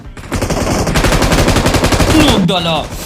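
Rapid automatic gunfire from a UMP submachine gun in the PUBG video game, a loud continuous burst lasting nearly three seconds, ending with a short whooshing sweep.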